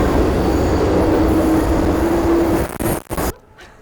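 A metro train runs underground in Italy, a loud steady rumble of wheels and carriage noise with a faint squeal, ending in a few heavy clunks before cutting off abruptly.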